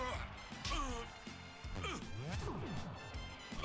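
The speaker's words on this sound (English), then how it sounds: "Glass Joe falls back and he actually shatters into a million trillion pieces" Crashing, shattering impacts as Glass Joe is knocked out in the Punch-Out!! Wii video game, a loud smash amid swooping game effects and busy background sound.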